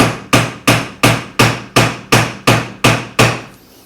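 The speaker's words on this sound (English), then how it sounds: "this Delrin hammer is not going to work" Ten sharp blows of a Delrin hammer on metal on a bangle forming die in a steady, even rhythm, each strike ringing briefly before the next; loud and close, no voices.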